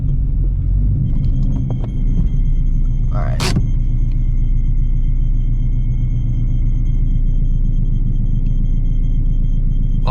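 A supercharged Shelby GT350 rumbles at idle after startup, a deep, steady low drone close by with a faint high whine above it; a short sharp burst cuts in near the start, and someone speaks briefly.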